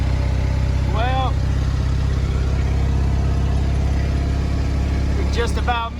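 Ford F450 pickup with a 7.3 Power Stroke diesel engine hauling rock, a steady loud drone from start to finish, with brief tonal squeals near the start and end.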